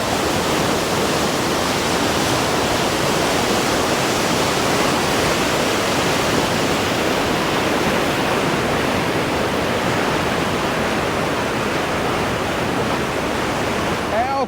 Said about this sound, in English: The amount of water going through there is unbelievable.